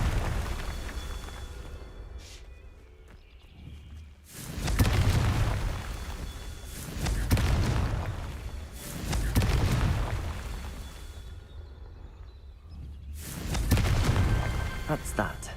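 Confringo blasting spell cast in a Harry Potter video game set at Hogwarts: four heavy booming bursts, each swelling and fading over a second or two, spaced a few seconds apart over a steady ambient game background.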